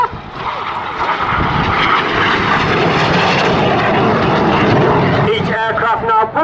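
RAF Red Arrows jet aircraft at the Southport Airshow 2022, the synchro pair making a pass: a loud, sustained roaring jet rush that swells and holds for several seconds, with an announcer's commentary over it.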